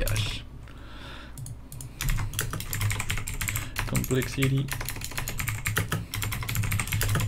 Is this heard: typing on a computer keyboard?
yes